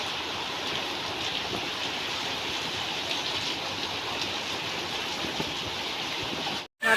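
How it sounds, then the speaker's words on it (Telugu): Heavy rain pours down steadily in a village during the rainy season, a dense, continuous hiss that fills the whole scene before cutting out briefly near the end. "ఇంతసేపు ఫుల్ ఎండ కొట్టింది ఇప్పుడు వర్షం చూడండి"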